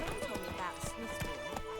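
In The Witcher 3, a horse's hooves clip-clop at a quick gallop in a steady rhythm, with a whinny over the top and a voice talking alongside.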